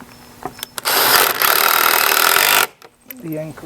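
A power tool drives anchors to secure boards on an exterior landing deck, with one loud, steady burst of roughly a second and a half close by. Brief speech comes before and after it.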